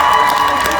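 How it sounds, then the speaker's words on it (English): Loud, dense crowd cheering and clapping from an audience at a hypnosis stage show, a continuous close wash of voices and hands with no gaps. "it's this round of applause because it's for you right here"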